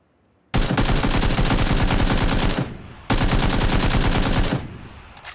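Two long bursts of rapid automatic gunfire in the video game Battlegrounds (PUBG), loud and close, separated by a brief pause, with no talking.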